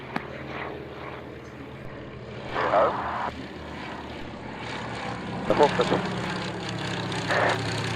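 A light propeller airplane with its landing gear down drones steadily through the whole stretch, a continuous mid-distance engine hum with small swells, heard over a radio-style background.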